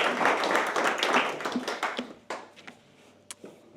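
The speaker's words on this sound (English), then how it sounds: "Give him a round of applause, please." An audience at a book launch at St Comgall's claps for about two seconds, a dense burst of applause that quickly thins to a few scattered claps and then quiet.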